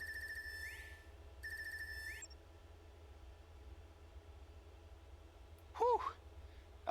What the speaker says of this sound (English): Is that my Arcus phone going off?